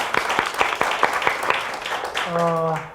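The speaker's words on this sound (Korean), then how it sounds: "박수로 하늘께 영광 돌리고 감사합니다." Audience at a Christian forum lecture gives applause: a run of distinct, fairly evenly spaced claps over room noise, followed by a brief voice at the end.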